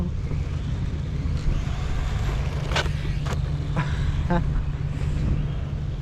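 A vintage Kyosho Scorpion RC buggy driving on a sandy track, its electric motor giving a continuous buzzing drone with brief whirring surges, heard close amid steady outdoor rumble with a faint voice.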